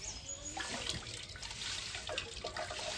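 Water runs and trickles steadily throughout, a continuous splashing flow being released into a homemade smoking apparatus.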